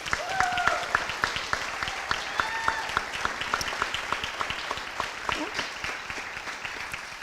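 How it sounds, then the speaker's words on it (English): A round of applause at a superintendent's retirement open house, steady clapping from a modest crowd at close range, with some voices mixed in throughout. "And so please give him a round of applause."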